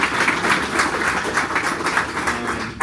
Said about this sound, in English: Give him a round of applause for himself.